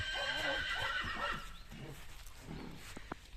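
A Percheron horse neighs in a loud, wavering whinny, followed by quieter shuffling and a few hoof knocks.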